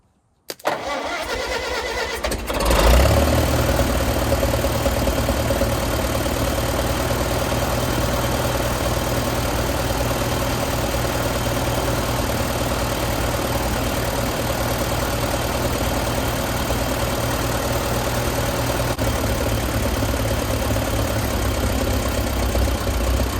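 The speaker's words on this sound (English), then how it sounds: "crank her up." A 1954 Case SC tractor engine is cranked on a cold, frozen morning, catches after a few seconds and settles into a steady, loud, even idle that runs on at close range.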